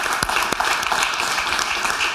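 An audience applauds during a talk with actors, a loud, steady roar of clapping with a couple of sharp individual claps standing out near the start.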